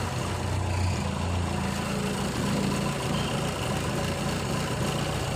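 A four-cylinder car engine running on CNG idles steadily in a low, even rumble with a faint periodic throb, moderately close and uninterrupted by talk.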